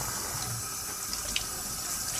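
Tap water runs steadily while a part of a Kuvings Silent Juicer is rinsed in a sink, a constant hissing splash with no talk over it.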